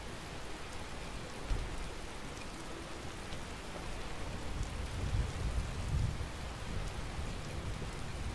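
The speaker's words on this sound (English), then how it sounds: "Still raining." Steady rain in the video game Skyrim pours down with a constant hiss and a low rumble underneath, continuous and moderately loud throughout.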